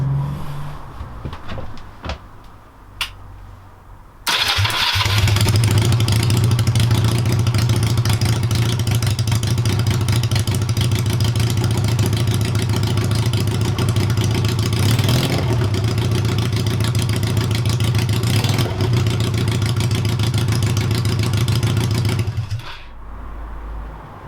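A Honda CB250 scrambler motorcycle engine roars to life after some clattering and runs loud and steady for nearly twenty seconds with slight swells, then cuts off abruptly.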